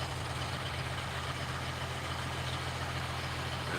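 A truck engine idles with a steady low rumble and constant throb, fairly quiet and unchanging, with no voices over it.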